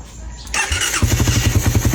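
A motorcycle engine being started after sitting unused: a short whirring crank, then the engine catches and runs with a loud, steady rhythmic idle putter close by, with no talking.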